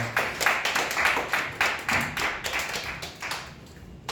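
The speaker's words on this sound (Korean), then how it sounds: "우리 박수로 환영합시다" A small youth group at a church service claps to welcome a new member, giving a few seconds of sparse, rhythmic, fairly close hand claps that fade toward the end.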